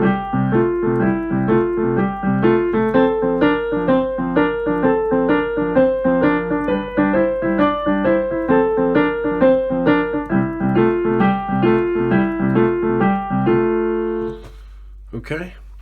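Blues boogie woogie piano riff picked out as single right-hand notes, a steady bouncing line of clear piano tones played alone and fairly loud, ending in a brief pause near the close.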